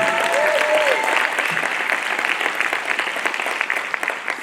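Sustained audience applause at a matric awards ceremony, many hands clapping loudly and evenly throughout, with a brief voice near the start.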